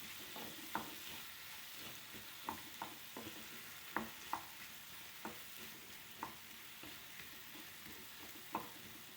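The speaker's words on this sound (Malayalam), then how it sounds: "നല്ല പാകമായ പഴം അതിലേക്ക് ഇട്ടിട്ട് നമ്മളൊന്ന് വഴറ്റി എടുക്കുക." Ripe banana sautés over low heat in a pan, a soft continuous sizzle broken by regular scraping taps of a spatula stirring, close and without voices.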